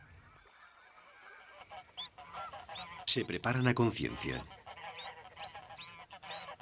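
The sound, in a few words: Canada geese honking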